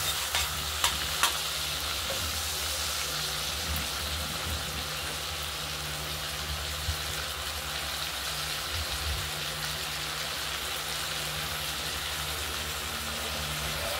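Steady sizzling of shrimp frying in a hot pan, a continuous hiss with a few brief clinks early on, no voices.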